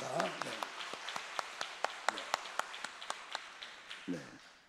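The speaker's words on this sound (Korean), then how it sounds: "박수로 하나님 찬양합니다." A church congregation claps in a steady rhythm during a worship song, faint and distant, with singing or voices underneath.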